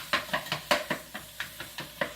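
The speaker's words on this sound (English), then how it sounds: "my favorite utensil for chopping up the ground beef" A utensil chops and breaks up ground beef for sloppy joes in a pan, giving about ten sharp, evenly spaced knocks and scrapes of roughly equal loudness, close by, with no talking.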